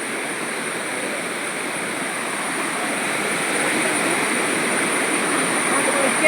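A small waterfall flows in a steady, even rush of water that swells slightly toward the end, with no other sounds standing out.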